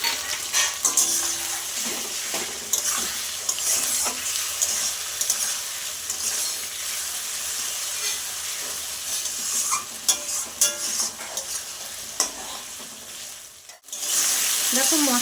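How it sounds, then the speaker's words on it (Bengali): A paste of ground red chili spice fries in a pan, a continuous sizzle with scraping stirs and occasional clinks, close and moderately loud, ending in a brief drop to near silence before the sizzle returns, with no talking. "মশলাটা তো দেওয়ার পরে আমি একটু ভেজে নিয়েছি"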